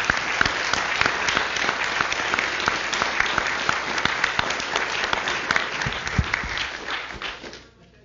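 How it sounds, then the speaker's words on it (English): An audience at a physics talk celebrating a 90th birthday bursts into loud, sustained applause, dense clapping filling the room for about seven seconds before fading out at the end. "They clearly deserve a solid round of applause"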